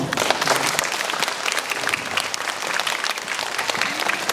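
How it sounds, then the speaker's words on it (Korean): Audience at a Korean author-meeting event applauds to welcome the speaker, a dense, steady wash of many hands clapping throughout, loud and continuous with no talk. "박수로 모시겠습니다."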